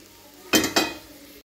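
Cooked rice tipped into a pan of sautéed carrots and stirred in, two quick close scraping, clattering bursts against the pan with quiet moments around them.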